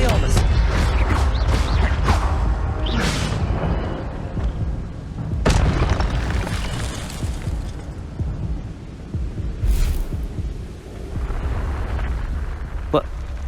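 A spell effect from Hogwarts Legacy erupts in booming, explosive bursts, with a strong blast at the start and another sharp crack midway, amid rumbling game sound and occasional speech.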